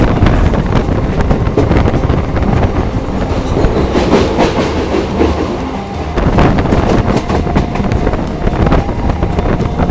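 Inside a moving passenger train on the Jaynagar to Janakpur line from India into Nepal, a loud steady rumble of wheels and carriages with rhythmic clatter and wind rushing past the open door.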